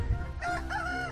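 Game chickens in ArcheAge crow and cluck near a coop, a short drawn-out rooster call rising over a low thump, loud and close with no talk.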